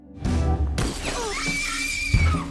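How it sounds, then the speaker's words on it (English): Glass shatters loudly in a burst of breaking, with tinkling shards and further crashes as objects are smashed in a rage, close and alone. "He smashes everything in sight and screams at his men."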